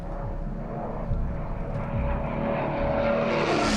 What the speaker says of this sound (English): Certainly lower than most people are used to having aircraft pass over their heads.